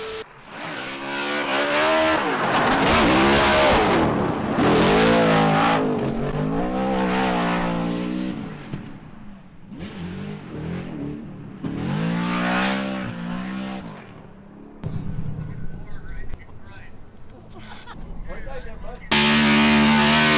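A Ford Mustang S650 race car with a new intake manifold on a cold VIR test day roars past in loud revving surges that rise, fall and fade, with quieter gaps between passes and a final burst.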